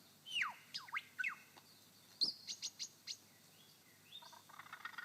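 A lyrebird in a Victorian forest imitates a wattle bird with a run of harsh, sweeping calls and sharp chirps in an uneven rhythm, ending in a softer rapid chatter, close and clear with no speech.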